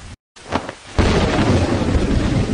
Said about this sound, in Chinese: 突然下了好大的暴雨啊！